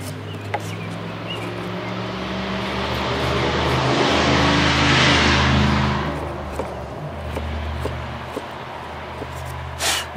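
Loud truck passing on a nearby road, swelling from a distant rumble to a roaring peak midway and fading away, with faint birdsong around it.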